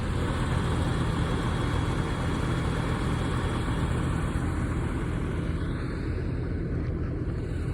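Steady vehicle engine drone on the drive out to a steep, hilly field in the Carpathian mountains, a continuous low rumble at even loudness throughout, with no voices.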